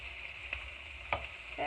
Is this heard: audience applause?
no